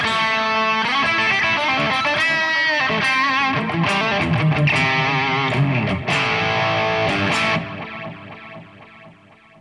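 Electric guitar through a Sonicake Matribox II Pro multi-effects preset, heavily processed with distortion, plate reverb and delays, chords and notes ringing out loudly before fading into a trailing reverb tail.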